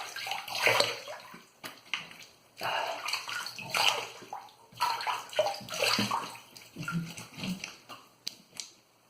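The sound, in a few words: water running as face is rinsed after a razor shave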